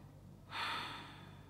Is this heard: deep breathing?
yes